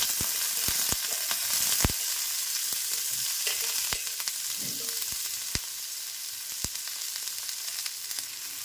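Chopped bottle gourd fries in a pan with garlic and onion, giving a steady, close hiss of sizzling oil. Occasional sharp clicks and stirring knocks break the hiss, and no one speaks.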